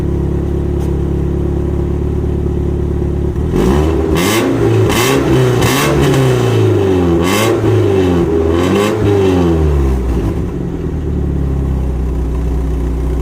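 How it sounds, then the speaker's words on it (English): A 1991 BMW E30 318i with manual gearbox idles steadily, then gets revved several times in quick surges before settling back to a smooth idle, loud and close. "the engine idles really nice."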